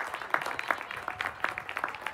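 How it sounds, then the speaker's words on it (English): Audience applause at a graduation ceremony for social work and nursing master's graduates, scattered hand claps from a modest crowd, steady and moderately distant, with no talk over it. "Let's clap for them."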